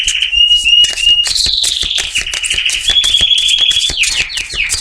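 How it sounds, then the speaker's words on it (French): A single excitable bird calls loudly and repeatedly at close range, a run of sharp, shrill whistling chirps and tweets that rise and fall, filling the air without pause and with no voices alongside. "Il est fou cet oiseau."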